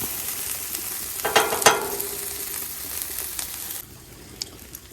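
Eggs frying on a Blackstone griddle, a steady close sizzle with a few brief stirring scrapes near the middle, then the sizzle drops to a quieter hiss toward the end.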